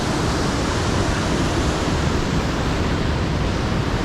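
Main Falls at Ohiopyle sends out a loud, unbroken wash of rushing water, a dense roar that stays even from start to finish with no voices.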